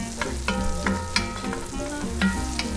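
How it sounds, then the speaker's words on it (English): Chopped onions going into a hot pan for a family deviled eggs recipe, sizzling steadily with several sharp stirring clinks and scrapes, close and fairly loud. "All right, so we're gonna get those onions in there."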